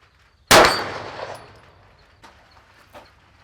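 A single sharp handgun shot rings off a steel target in a rain-soaked outdoor range, with a loud crack and a metallic clang that decays over a second, then two faint distant knocks.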